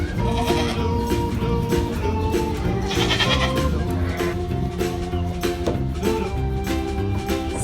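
A nanny goat bleating on a farm, repeated wavering bleats close by over a busy cartoon-style music bed.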